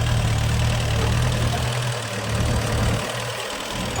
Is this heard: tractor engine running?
yes